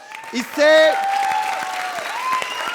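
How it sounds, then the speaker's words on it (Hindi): Audience applause on a televised comedy circus show, heard briefly beneath prominent shouting and cheering voices that dominate the short burst. "जोरदार ताली बजाओ।"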